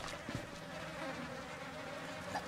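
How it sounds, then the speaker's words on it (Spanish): Flies in the horror video game Outlast buzz continuously at close range, a faint droning hum with slight rises and dips over a quiet background. "las putas moscas comiéndose los bichos."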